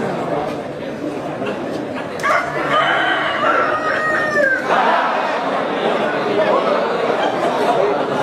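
Roosters at a cockfight during a Balinese temple festival let out a drawn-out crowing call over a chattering crowd, while a voice talks throughout.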